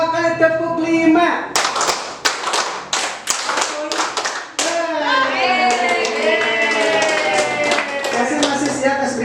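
A class of children clapping together in quick patterned bursts, several sharp sets of claps in a row followed by a rhythmic stretch, with kids' voices and singing mixed in.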